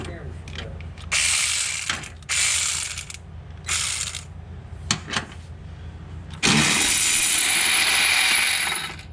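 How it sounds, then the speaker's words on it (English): Ratchet wrench clicking in several quick bursts as bolts are removed from a Camaro torque converter strapped to a table, ending in a longer continuous run of ratcheting, close and loud. "Now I just have to remove some of these bolts."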